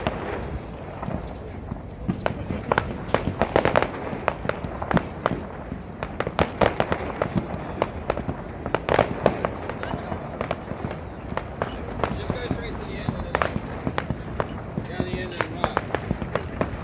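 Saturday night fireworks in Australia: a steady run of sharp pops and booming bursts, some close and loud, others fainter, with people talking over the display.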